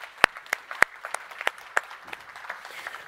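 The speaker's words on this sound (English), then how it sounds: "So let's give a round of applause for all the organizers." A small audience at the CyberChess 2024 cybersecurity event claps for the event organizers, giving sparse, distinct handclaps that come loud and close at first and then thin into softer, scattered claps.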